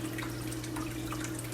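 Water flows steadily from the main tank into a small stream pool of a freshwater lobster stream tank, a constant close trickle and splash with an underlying pump hum.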